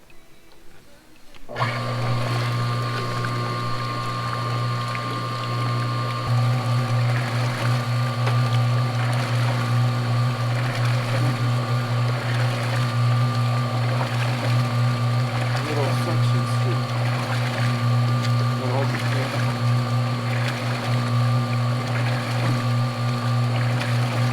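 A pool pump runs after being plugged in and primed, starting with a sudden steady motor hum and whine that holds evenly, while people talk intermittently nearby.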